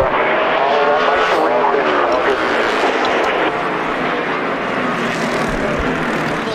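NASCAR stock cars, Chase Elliott's among them, roar past at speed on a race track, a loud, steady engine drone with a slowly shifting pitch throughout.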